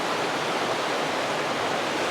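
High, fast-flowing river water on a salmon and trout fishing trip, a loud, dense, unbroken roar close by with no voices.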